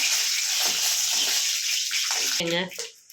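Chana dal and dried red chillies frying in oil, a steady bright hiss and crackle throughout, with someone speaking over it softly at times, the sizzle dropping away near the end.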